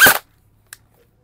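An HFC 203 airsoft AEG fires one sharp, loud, close shot, then the room goes quiet apart from a faint low hum and a small click near the end.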